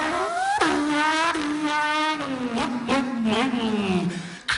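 A man on a talent-show stage imitates a race car with his voice, producing a buzzing engine drone that rises and falls through gear-change-like pitch swoops for several seconds.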